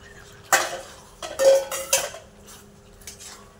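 Spatula scraping and clattering in a pan as fried pointed gourd is stirred into oily spiced masala, several sharp metallic knocks and scrapes in quick bursts, close and fairly loud, with no talking.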